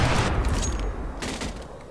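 A rapid burst of gunfire in a competitive shooter video game, loud and close, with dense overlapping shots at the start that taper off, then a second short cluster of shots.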